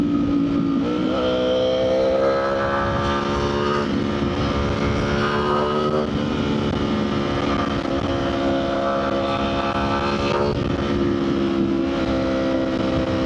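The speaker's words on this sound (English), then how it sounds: "I love the burble that it does on the off-throttle, like that, crazy." Ducati Panigale V4 engine burbling on off-throttle, a steady loud rumble with shifting harmonic tones and slight pitch changes, no talking.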